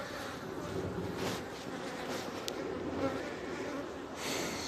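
Honeybees buzzing in the air around an open hive during a honey super check, a steady dense hum of many insects with faint outdoor wind, no talk.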